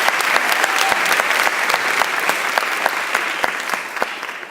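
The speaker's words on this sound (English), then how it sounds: "Please give another round of applause for our new Assistant Dean," An audience at a university honors college welcome gives loud, sustained applause for a new assistant dean, with a few sharp individual claps standing out from the crowd.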